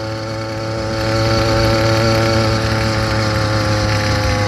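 A motorized bicycle engine runs steadily while riding on wet, rainy roads at part throttle, its exhaust silencer having fallen off, giving a loud, continuous buzzing drone that swells slightly after the first second.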